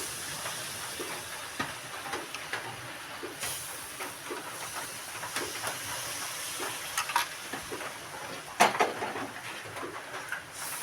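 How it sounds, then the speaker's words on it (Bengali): A ripe mango mixture with thickened milk is stirred in a pan, with repeated scraping strokes of a spoon over a faint, steady sizzle. "আবারও সব কিছুকে একসঙ্গে মিশিয়ে নিতে হবে।"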